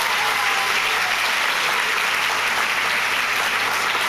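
Dense, loud audience applause fills a hall at an extinction emergency event, sustained clapping from a large crowd with no pauses.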